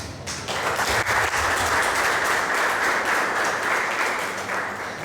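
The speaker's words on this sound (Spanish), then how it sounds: "Den un aplauso." A church congregation breaks into sustained, loud applause that fills the whole stretch, steady and dense with many hands clapping.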